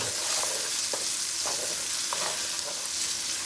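Carrots and other vegetables stir-frying in a hot wok for a chicken stir fry make a loud, continuous sizzle, with rhythmic scraping strokes of a spatula tossing the pieces every half second or so.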